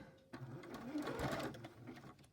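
A sewing machine stitching fabric for a fabric bag, a soft continuous motorized whir with a rapid needle rhythm, close but quiet, running for about two seconds.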